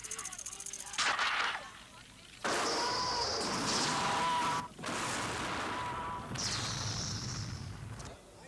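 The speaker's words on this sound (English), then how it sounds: "The gun Stallone carries is only firing blanks." Blank-firing gun bursts on the set of Rambo II, with several loud sustained volleys separated by short gaps, roaring and booming across the whole stretch.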